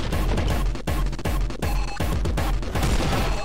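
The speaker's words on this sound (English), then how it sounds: "I shot him like 500 times!" Relentless gunfire from the first-person shooter game Angerfoot, with rapid overlapping shots and heavy impacts in a continuous loud barrage and no pauses.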